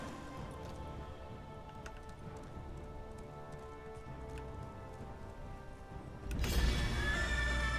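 Horse in the Elder Scrolls Online video game neighing with hoof sounds over steady rain-like ambience, and a louder burst near the end.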